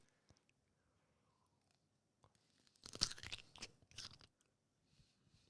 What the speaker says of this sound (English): The crunchy pickle sound is actually kind of titillating on my headphones.